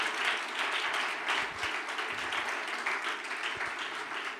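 A church congregation applauds together in a continuous, moderately loud wash of many hands clapping, steady from start to finish.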